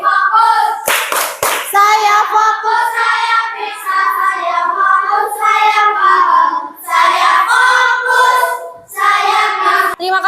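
A school class does the tepuk fokus clapping game, a few sharp claps at the start followed mostly by children chanting and singing in unison, loud and close.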